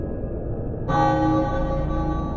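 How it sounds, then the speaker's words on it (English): A stock church-style bell tolls once in the video game Legacy of Kain: Blood Omen 2, striking after a low background drone and ringing on with a sustained, humming metallic decay. "Very stock bell sound."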